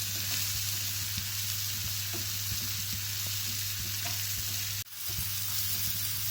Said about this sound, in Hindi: प्याज टमाटर हमारे अच्छे से भून चुके हैं